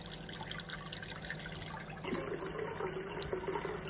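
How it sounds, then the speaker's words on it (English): Water runs from a bathroom tap into a sink, a steady close rushing stream that grows fuller and louder partway through as the basin fills. "And this is me filling up the tap with water."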